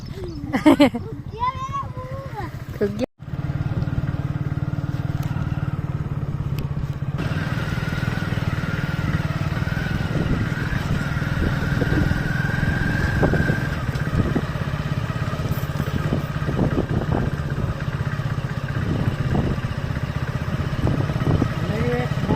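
A motorcycle idles and then rides off from village fields, its steady mid-pitched engine drone running close and continuous under a voice and a child's chatter.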